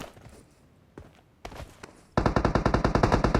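Gunfire in PUBG Mobile: a few scattered single shots and footstep-like thuds give way to a rapid, loud automatic burst of evenly spaced rounds that runs to the end.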